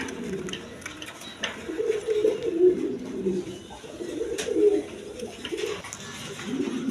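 Pigeons kept for sale give soft, low, repeated coos up close, overlapping in gentle rising-and-falling phrases over a faint background hum.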